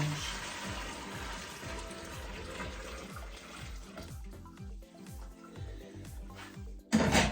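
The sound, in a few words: hot water being poured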